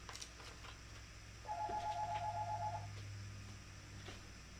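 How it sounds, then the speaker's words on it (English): A telephone rings in a room, a single steady warbling electronic ring lasting more than a second, moderately loud against a low background hum, with no talk. "Oh, now the phone's ringing."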